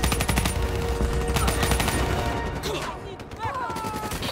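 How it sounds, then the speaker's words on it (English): Rapid automatic gunfire in the shooter game Call of Duty Black Ops 3, loud, dense bursts that keep firing for the first half and then thin out into scattered shots, with voices speaking over the shooting. "Give me some cover fire."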